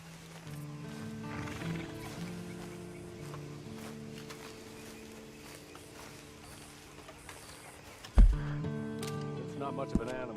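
A horse in the Western video game Red Dead Online snorts and whinnies while hooves clop, with in-game characters talking over it, followed by a sudden loud thump and a brief rising neigh near the end.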